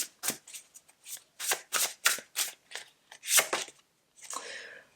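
Oracle cards being handled and shuffled, a close series of crisp riffling bursts in an uneven rhythm, ending with a softer sliding rustle.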